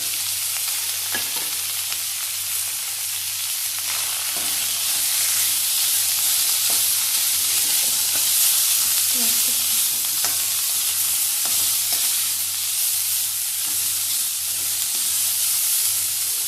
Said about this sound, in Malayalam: നമുക്ക് ഇളക്കി വറുത്തെടുക്കണം.